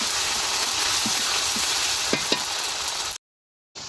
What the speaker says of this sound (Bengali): আদা রসুন বাটা দিয়ে দিলাম